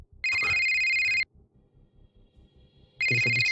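A telephone ringtone rings loudly in two electronic bursts, a long one and then a second starting near the end, with quiet voices murmuring underneath during a film-noir-themed tabletop role-playing session.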